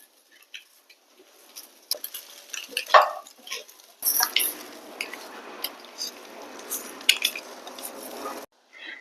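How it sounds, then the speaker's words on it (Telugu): A utensil clinks and scrapes gently against a pan while cut eggs are stirred into coconut masala for an egg pepper fry, with light irregular taps and soft sizzling, close by. "ఎగ్స్ కంతా మసాలాలు పట్టేలాగా చిన్నగా కలుపుకోవాలి"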